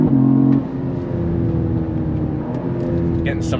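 Cadillac CT4-V Blackwing sedan exhaust rumbling steadily from the rear at moderate volume, a low throbbing drone with a brief higher rev at the start, heard from inside the car under some faint voice.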